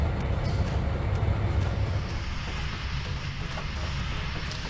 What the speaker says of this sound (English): here we see that aggregate train again